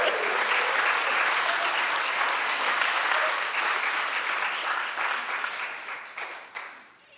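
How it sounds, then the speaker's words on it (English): An audience breaks into a sustained ovation, dense applause and clapping filling the room at full strength before gradually thinning and fading toward the end. "I do think it deserves an ovation"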